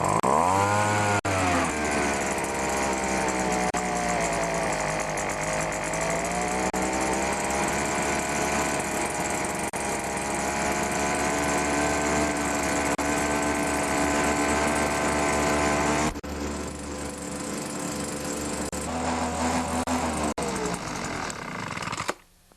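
A small 25cc gas leaf blower engine runs continuously at a high, buzzing pitch, revving slightly up and down before dropping and sputtering to a stop.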